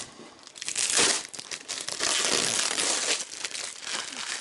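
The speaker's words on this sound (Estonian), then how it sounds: "Kile neile meeldib kõvasti kasutada" Plastic film wrap crinkling and rustling continuously as stainless steel pipes are unpacked from a delivery, loud and close with no talking.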